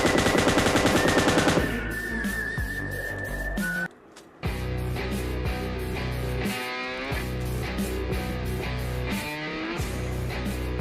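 Rapid bursts of PUBG Lite gunfire crackle over game music and effects, with repeated automatic volleys and a brief drop in sound midway.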